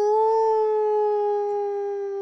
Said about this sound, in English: as his howl echoes over the city